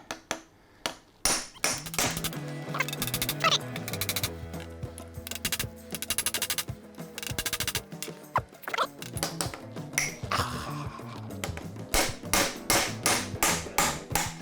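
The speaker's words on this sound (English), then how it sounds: "So we'll just get the chisel there." Steel chisel struck repeatedly with a hammer to split apart a gear part on a motorcycle engine bench, a rapid series of sharp metallic impacts with ringing tones, close and loud, no talking.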